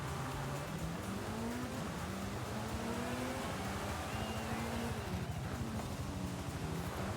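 A car engine revving and droning steadily in Forza Horizon 5, loud and continuous with pitch rising and falling as it drives, without a distinct crash impact.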